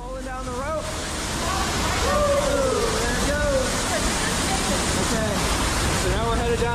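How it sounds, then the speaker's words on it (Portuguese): Water rushing hard through a narrow cave passage like a small waterfall, a dense roaring wash that swells and holds steady, with a voice talking over it. "o fluxo fica tão intenso que parece até uma pequena cachoeira se formando ali dentro"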